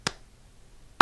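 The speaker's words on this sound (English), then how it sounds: "The slow 80s clap." Two single sharp claps about a second apart with quiet between, close and crisp, with no talk.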